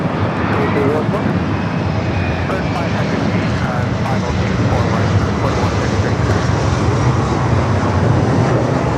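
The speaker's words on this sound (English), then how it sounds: "That was an E-jet, you're hearing it." A Delta Connection SkyWest Embraer E-jet airliner at LAX rolls past with a loud, sustained jet-engine roar, broadband and steady throughout, with a voice talking over it.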